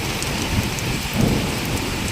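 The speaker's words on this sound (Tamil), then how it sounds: "செம்மையாக அடிக்குதுங்க மழை." Heavy rain pouring down in Bangalore, a dense continuous hiss of drops striking surfaces, close and loud, with slight surges in intensity and no voices.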